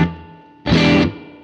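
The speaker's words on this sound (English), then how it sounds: "I tend to put this ambient reverb at the end as well." Stratocaster-style electric guitar played through an ambient reverb effect, a single bright strummed chord lasting about half a second that cuts off, with a long reverb tail ringing on either side.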